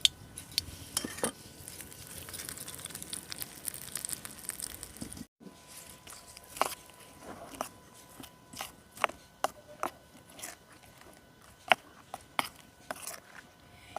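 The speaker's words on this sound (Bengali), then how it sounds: "এবার আমি সরাসরি ফোড়নটাকে দিয়ে দেবো চাটনির ওপরে।" Hot tempering of fried leaves poured over coconut chutney and stirred with a spoon, giving soft sizzle and repeated sharp metallic clinks of the spoon against the bowl, fairly close and quiet.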